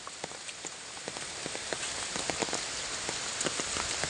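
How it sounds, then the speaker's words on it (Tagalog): The strong current of the Maoyon River rushes in a steady, fairly faint wash of water, broken by small scattered splashes, with no voices. "Naglalim na siya. Lakas ng agos."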